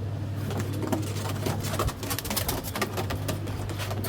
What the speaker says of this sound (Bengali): দুইটা চকো কবুতর দেখাইতেছি